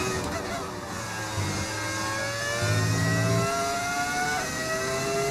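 A V10 engine sound mod on a Formula 1 car in F1 25 revs and climbs through gears, rising whining tones over a low engine drone, loud and close.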